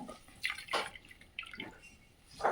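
Water is added and squeezed through ragi-wheat baby food mash by hand, giving a few close, soft splashy drips and wet squelches with no talk.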